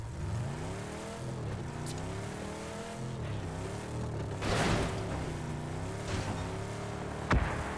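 Car engine from the PUBG video game, a steady droning motor with shifting revs running throughout, a burst of noise near the middle and a sharp impact-like thud near the end; no talking.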